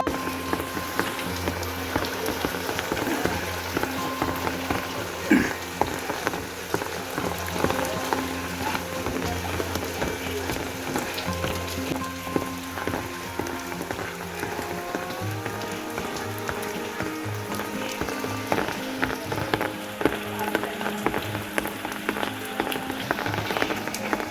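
Steady heavy rain pours and patters on surfaces, a dense, continuous hiss with scattered drops, close by and without talk.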